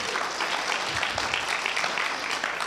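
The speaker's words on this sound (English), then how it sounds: "let's have a round of applause for all those who come to an Alianța event." Crowd at a Romanian United Foundation Alianța event giving a round of applause, dense continuous clapping filling the room for a few seconds.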